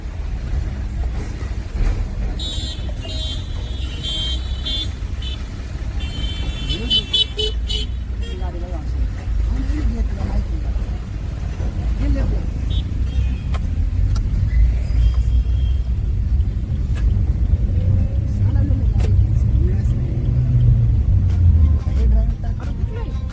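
A car driven along a road gives a continuous low engine and road rumble, with a horn-like toot early on and people talking over it throughout.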